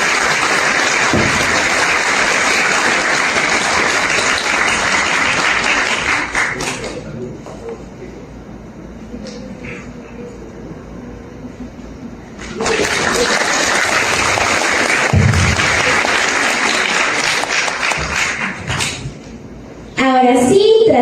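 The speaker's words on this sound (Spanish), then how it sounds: "Pido un fuerte aplauso." An audience at a civil law seminar applauds during a medal ceremony, sustained loud clapping for several seconds that fades out, then a second strong round of applause follows after a quieter stretch.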